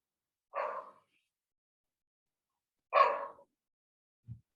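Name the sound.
dog barking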